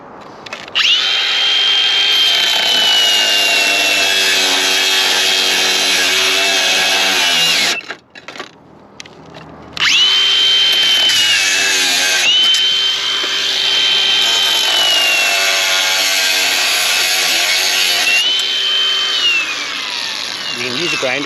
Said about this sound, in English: use a grinder too to cut them